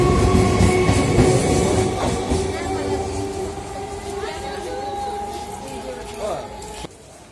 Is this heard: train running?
yes